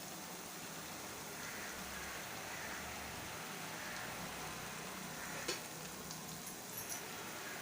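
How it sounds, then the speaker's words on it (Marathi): Battered spinach fritters fry in hot oil over high heat, producing a soft, continuous hiss and bubbling at low volume, with a couple of faint clicks near the end and no talking. "असं छान बेसनमध्ये डिप करून असं तेलात सोडायचं आहे"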